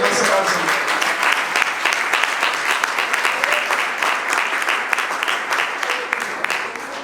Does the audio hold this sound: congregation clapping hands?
yes